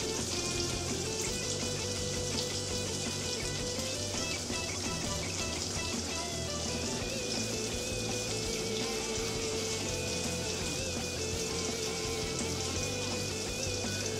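Burger patties fry in a pan with a dense, unbroken crackling sizzle that stays loud and even throughout, no talking over it.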